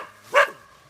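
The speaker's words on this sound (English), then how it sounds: "you can hear Dakota barking" Dakota, a trapping dog on the edge of the water, gives one short, moderately loud bark at a distance, with quiet outdoor air around it.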